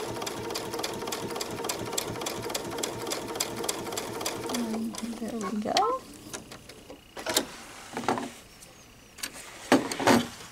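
A sewing machine stitches heavy cork-lined vinyl on a fully lined zipper bag, running in a steady rapid whir for about six seconds before stopping, followed by a few scattered clicks and handling knocks.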